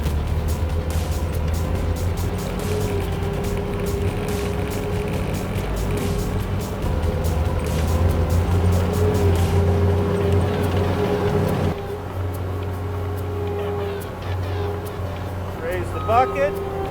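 A Terex skid steer drives through a slalom course, its diesel engine droning steadily and rising slightly as it gains speed, while a voice talks over it.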